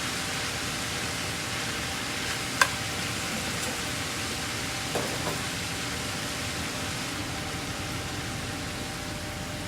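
Chopped cabbage with salt and pepper sautéing in olive oil in a pan, a steady, even sizzle throughout with a couple of faint clinks, no talking.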